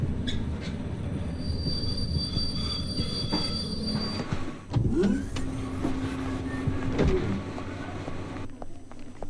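A train pulls into a station with metallic wheel squeals and screeches over a low rolling rumble. Brake hisses and clanks follow as it slows.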